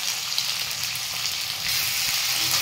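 Rice frying in a pan with salt stirred in for egg fried rice, a loud, steady sizzle with faint scraping of the stirring, close up and without talk.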